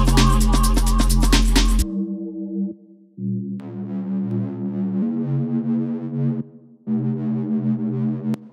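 A gritty, distorted FM synth bass, run through a driven low-pass filter, distortion and low-mid EQ boost, plays a short phrase of sustained low notes with brief gaps, loud and up close, opening with a dense burst.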